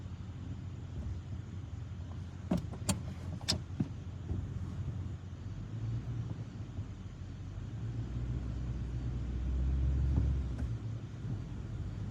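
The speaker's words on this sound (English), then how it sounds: "Okay, I'm gonna pull this shed with this truck." Pickup truck engine in four-wheel drive straining to pull a shed, a steady low rumble that swells toward the end, with a few sharp clanks early on and no talking.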